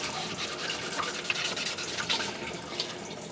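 A drill fitted with a polishing attachment works on a KA24DE engine part during a rebuild, giving a steady, close whirring and scrubbing hiss with small scratchy variations throughout.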